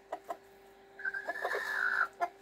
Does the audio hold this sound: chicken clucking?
yes